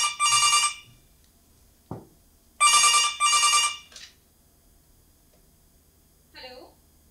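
A telephone rings on stage during a Hindi theatre play, two bursts of bright electronic trills, a clunk, then a double ring, and a brief voice afterwards.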